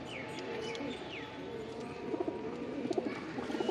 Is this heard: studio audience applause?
no